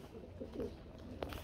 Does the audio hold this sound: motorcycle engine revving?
no